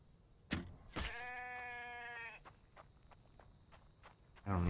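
Sheep in a survival video game, one sustained wavering bleat after a couple of sharp clicks, fairly close and clear, followed by faint game noises and no talk.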